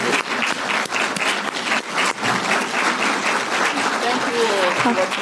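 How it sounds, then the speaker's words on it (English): Applause from an award ceremony audience, loud, continuous clapping from a full room, with voices talking underneath it. "One more round of applause."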